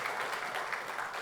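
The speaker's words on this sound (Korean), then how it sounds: "정말 우리 하나님께 영광의 박수 한번 했으면 좋겠어요" A church congregation gives a short burst of dense, continuous clapping that sounds fairly full, as from a crowd in a hall, with no gaps.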